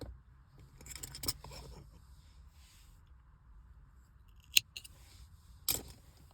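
Scissors snip through the loose yarn end of a small crocheted heart keychain, with a couple of sharp, close cuts standing out over quiet handling noise and no talking.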